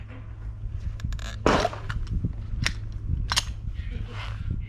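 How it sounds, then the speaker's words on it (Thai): Gunfire from RIP 9mm rounds fired into a pork target, heard as several sharp reports and clicks over a steady low hum, with a person talking nearby. "กระสุนนัดที่สองสามและสี่ ของ RIP นะครับจะเป็นยังไง"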